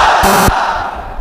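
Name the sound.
crowd shouting takbir chant in response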